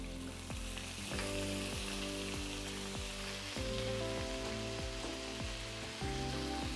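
Ginger paste sizzles and spits in hot oil with whole spices (cinnamon, cloves, cardamom, bay leaves) while making Basanti pulao, a steady close crackling hiss with periodic scraping stirs, no voices.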